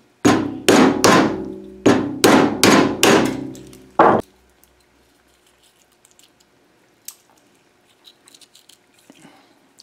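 A hammer cracks black walnut shells outdoors in a Pennsylvania autumn. About a dozen sharp, loud blows come in quick clusters, then stop, leaving near-silence with a few faint small knocks.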